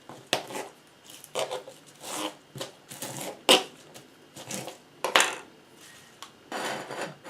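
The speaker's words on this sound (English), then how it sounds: "I'm using some green salad which I'm going to cut into fairly small pieces." A green salad is chopped into small pieces on a board, the knife making a series of irregular crisp taps and crunchy cuts with short pauses between strokes.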